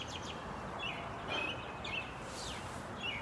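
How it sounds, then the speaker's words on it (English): Birds sing in small, faint chirps over a steady wash of distant ocean surf mixed with passing car traffic. "you can hear the ocean and the birds singing."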